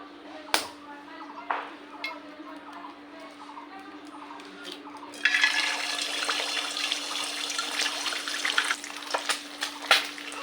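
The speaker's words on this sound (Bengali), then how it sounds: "তো এরকম করে আমি সব ডিমগুলো ভেজে নিব।" Duck eggs fry in hot oil in a wok, at first a faint crackle under a low hum, then a sudden surge into a loud, steady sizzle and spatter that continues to the end.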